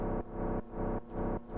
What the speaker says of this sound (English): And now if we add the sidechain compression